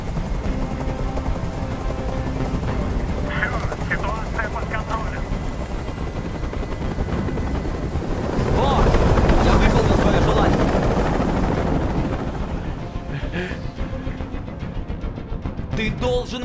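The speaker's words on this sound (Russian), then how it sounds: "Как же меня бесит этот звук! Прикажи им, чтобы вертолет убрался!" A helicopter hovers in the video game Detroit: Become Human, a constant loud rotor thrum filling the scene and swelling midway, with in-game dialogue and other game sounds layered over it.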